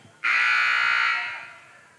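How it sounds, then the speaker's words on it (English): A loud, steady electronic buzzer at a college volleyball match, signalling the start of set two, sounds for about a second and then fades out, ringing across a large gym. "There's the buzzer to get ready for set number 2"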